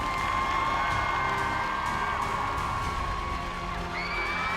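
A Cougars baseball stadium crowd cheers in a steady, loud roar, with whoops and high shouts rising above the din.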